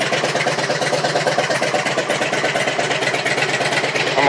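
A Kawasaki Vulcan motorcycle engine idles steadily up close, a dense, continuous rumble with an even pulsing texture that holds at a constant loud level throughout, with no voices.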